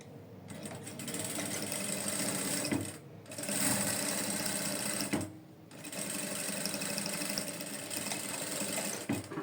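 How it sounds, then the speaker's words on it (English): A sewing machine stitching down the inside of a trouser pocket runs in steady mechanical bursts, pausing twice briefly between runs, close and clear with no talking. "I'll open my pocket like this and sew down this shape inside."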